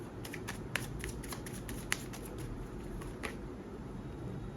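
A tarot card deck is shuffled in the hands, making a continuous fast riffling flutter with a few sharper snaps of cards, close and fairly quiet, with no talking.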